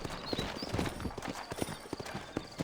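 Horse hooves clip-clopping in a steady rhythm in the video game Red Dead Redemption, several sturdy horses walking close by with no talk over them.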